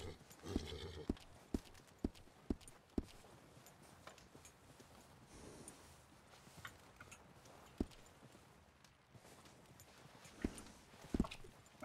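A horse in the snowy wild-west world of Red Dead Redemption 2 walks with steady clip-clop hoofbeats and whinnies, the hooves sounding in distinct, fairly loud strikes over a quiet background.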